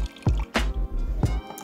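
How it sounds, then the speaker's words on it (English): Water pours into a jug holding yeast and sugar while hard dough bread is made from scratch, with a few close splashy bursts of liquid and short gaps between them. "Then we're gonna add the water to this."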